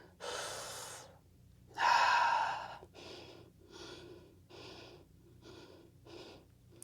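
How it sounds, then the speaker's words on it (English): Deep breaths drawn from the solar plexus during a yoga-style workout: a loud gasping inhale, then a run of shorter, rhythmic exhales and snorts close to the mic, with no talk. "Breathing from your solar plexus here."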